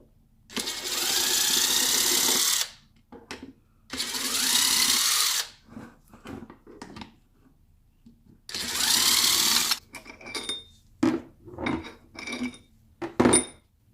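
A power tool spins brake caliper fasteners out on a Nissan 300ZX in three loud whirring bursts of about two seconds each. Short metallic clicks and clinks of parts being handled follow.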